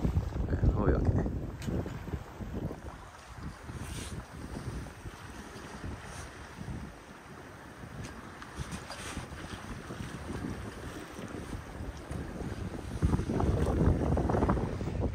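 Sailboat underway on the Intracoastal Waterway with a sail set, heard as steady rushing wind buffeting the microphone over water and hull noise, louder at the start and end, with a voice briefly audible.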